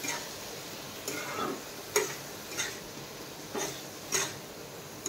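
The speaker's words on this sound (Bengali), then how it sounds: "এটাকে এবারে এইভাবে কিন্তু নাড়তে হবে" Rice being stirred in a pan, with soft scraping strokes recurring about every second at moderate loudness over a faint background hiss, no voices.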